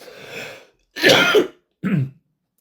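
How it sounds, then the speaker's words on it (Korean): Three separate coughs come close and fairly loud, from a pastor mid-sermon: a softer first one, then two sharper, harsher bursts with short pauses between, no speech around them. "너무 흥분해가지고 기침이 막 나"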